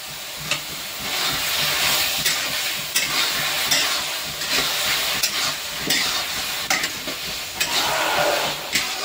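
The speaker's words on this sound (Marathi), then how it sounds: "मस्त पनीर याच्यात मिक्स करून घेऊ" Paneer is stirred into a sizzling masala in a pan, a loud steady fry-hiss with repeated scraping strokes of the spoon rising above it, close and continuous.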